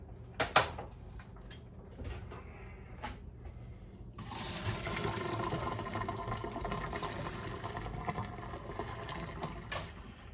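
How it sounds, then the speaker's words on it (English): Cooked spaghetti is drained into a strainer at a kitchen sink. A few clunks and knocks come first, then a steady rushing pour of water and pasta that continues for several seconds at a moderate level. "I'm going to strain the spaghetti."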